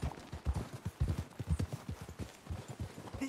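Horse hooves in the video game Red Dead Redemption 2 on a cold trail, a quick steady clip-clop of several hoofbeats, fairly faint and continuous.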